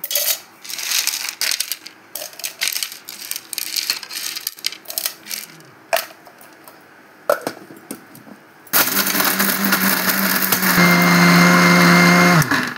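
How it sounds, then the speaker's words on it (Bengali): An electric mixer grinder powders sugar candy (misri), first with loose crystals rattling and clattering in the jar, then a loud continuous high-pitched motor whine that runs to the end. "আমি মিক্সিতে এগুলোকে দিয়ে গুঁড়ো করে নেব।"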